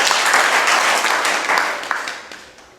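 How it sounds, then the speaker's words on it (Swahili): A classroom group claps in a burst of applause that starts full and loud, then thins and fades out over a few seconds. "Haya, mpigieni makofi."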